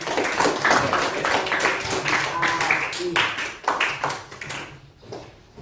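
Classmates give a short, scattered round of clapping for a student reciting poetry in an Indonesian classroom, uneven and moderately close, tapering off into quiet.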